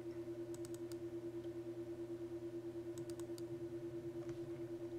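A computer mouse gives a few faint, sharp clicks in quick pairs, like double clicks, over a steady electrical hum in a quiet room.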